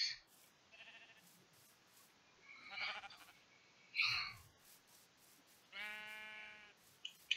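Several sheep bleat in a Minecraft world, the in-game calls coming as separate bleats spread across the stretch, at moderate loudness with no talk over them.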